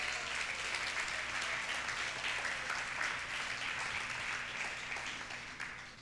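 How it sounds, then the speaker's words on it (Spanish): A congregation at a faith and hope crusade service claps for the Lord in a full, loud, continuous round from many people, holding steady before easing slightly at the end. "¿Cuántos le dan un aplauso al Señor?"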